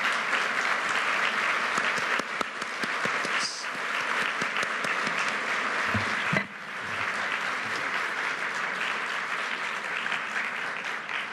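An audience at the 2005 Davos Annual Meeting breaks into sustained applause after a speech by Prime Minister Recep Tayyip Erdogan, a thick, continuous clapping that dips briefly midway and then carries on evenly.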